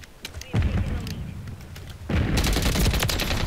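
A Stalker SMG fires in Modern Warfare III in rapid automatic bursts. A short opening burst is followed by heavier fire that turns loud and nearly continuous in the second half, with faint voice bits mixed in.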